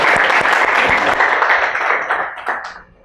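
Classroom of students applauding a classmate, a burst of close, lively clapping that fades out over about three seconds.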